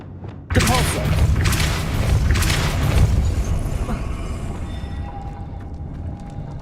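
In the video game Hogwarts Legacy, the Depulso spell bursts out with a sudden loud, broad blast. A rushing, rumbling wash follows and slowly fades over several seconds.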